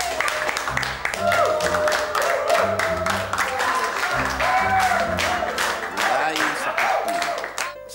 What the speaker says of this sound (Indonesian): tepuk tangan dulu lah untuk Samsul